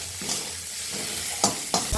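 Chopped onion, ginger, cumin, garlic and turmeric powder frying in a pan, a close continuous sizzle broken by a few sharp bursts as the mixture is stirred or tossed, no talking.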